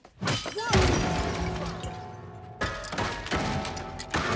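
Glass shatters in a movie scene: a sharp smashing crash rings out, followed by tinkling debris, then a second burst of breaking and clattering noise, fairly loud and close.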